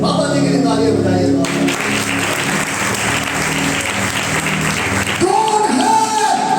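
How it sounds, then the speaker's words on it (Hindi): Congregation applause during a Sunday revival service in Karachi, loud sustained clapping from the crowd framed by music or voices at the start and a tonal sound returning near the end. "बाबा जी के लिए तालियां बजाइए।"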